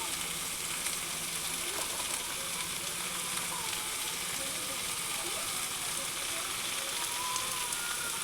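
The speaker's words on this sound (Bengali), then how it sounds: "কাটা কচু, সব মশলা দিয়ে এখন আমি এটা কষাবো।" Cut taro being sautéed with spices and salt in a pan, giving a steady, dense sizzle and crackle that carries on unbroken throughout.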